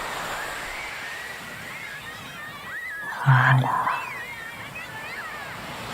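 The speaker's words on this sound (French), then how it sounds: "entendez les vagues qui déferlent sur la plage" Waves break on a beach in a continuous soft wash of surf that swells briefly midway, with a single spoken word over it.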